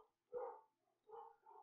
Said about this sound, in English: The dogs need to stop barking.